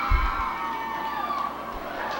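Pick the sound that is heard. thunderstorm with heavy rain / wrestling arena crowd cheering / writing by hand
wrestling arena crowd cheering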